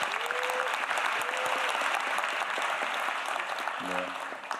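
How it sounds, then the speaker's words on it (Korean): A hall audience at a Jeonbuk town hall meeting claps loudly and steadily for several seconds, a dense wash of applause with a brief voice breaking through near the end. "여러분 박수 크게 부탁드립니다."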